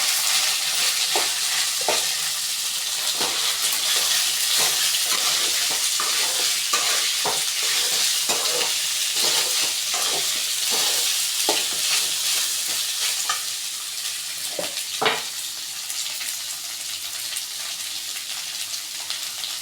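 Chopped ivy gourd stir-frying in a pan, a continuous sizzle with repeated scraping stir strokes at a steady pace, close and fairly loud, with no talk.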